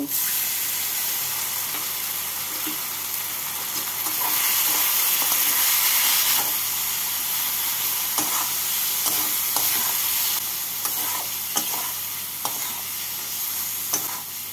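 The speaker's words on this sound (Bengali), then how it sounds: "2 টিস্পুন রসুন বাটা আর দেব 2 টিস্পুন কাশ্মীরি লাল লঙ্কা গুঁড়ো। মশলাটাকে কষিয়ে নেব।" Garlic paste and Kashmiri red chilli powder fry in oil as a masala base for mutton liver chochchori, a dense, loud hissing sizzle throughout with intermittent spatula scrapes and taps as the spices are stirred.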